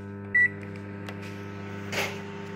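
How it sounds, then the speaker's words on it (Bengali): Microwave oven running for a minute to heat coriander leaves before grinding, a steady low mechanical hum with a brief beep near the start and a faint clunk later. "তো আমি এটাকে মাইক্রোওয়েভ 1 মিনিট দেবো।"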